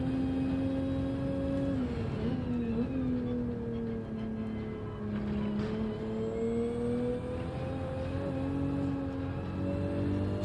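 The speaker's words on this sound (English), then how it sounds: "That is such a good sounding car." A race car engine in a racing video game at the seaside Dragon Trail circuit holds a steady droning tone, with shifts and dips in pitch as it works through corners, alone and continuous.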